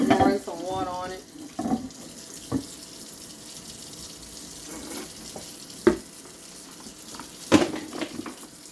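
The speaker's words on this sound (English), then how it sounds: "Pouring some water on it." Water splashing from a kitchen sink tap over a microwave turntable plate left to soak, a steady wash with a few sharper clinks and splashes, near and moderately loud.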